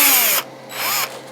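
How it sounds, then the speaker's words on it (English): A power drill bores holes through a molded hollow model engine bell for an E.T. Starship model, whining loudly at first, easing off, then revving up again briefly, with no talking. "So I'm just going to drill these guys out the rest of the way."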